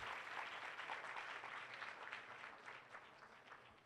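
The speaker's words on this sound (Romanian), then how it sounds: "Aplauze pentru ei!" An audience applauds after a paso doble dance performance at the GPeC 2013 event, with dense, sustained clapping that sounds somewhat distant and tapers slightly toward the end, with no voices over it.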